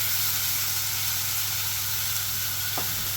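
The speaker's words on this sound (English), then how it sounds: "the cumin seeds are roasting" Cumin seeds roasting in a pan over heat, producing a loud, continuous crackling sizzle that stays steady throughout with a brief faint clink near the end, no talking.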